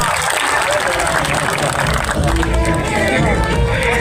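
A large crowd at an outdoor political rally in Gujarat claps loudly and continuously, a dense roar of applause mixed with crowd babble throughout.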